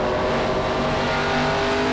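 A NASCAR ARCA Series race car in iRacing at Nashville Fairgrounds Speedway dives into a corner, its engine roaring loud and steady with a high, sustained whine and a hint of tire scrub, no voices.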